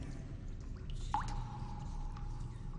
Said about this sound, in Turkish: Ne zamandan beri damlayan su yukarı doğru çıkıyor?